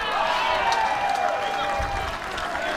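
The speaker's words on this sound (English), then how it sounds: "You could hear the roar there from the crowd." Pickleball tournament crowd roaring and applauding, a steady loud wash of claps and cheers sustained throughout with commentary voices beneath.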